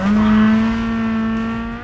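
A rally car in the WRC 10 racing game holds a steady, buzzy engine and exhaust drone for under two seconds, with a sustained pitch that fades slightly at the end.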